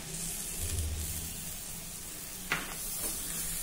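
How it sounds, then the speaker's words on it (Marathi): Pigeon pea ghugri sizzles steadily in a pan as finely chopped tomato is added, with a brief sharp clatter partway through and a constant broadband frying hiss underneath. "आता यामध्ये 1 छोट्या आकाराचा टोमॅटो बारीक चिरून घालूया।"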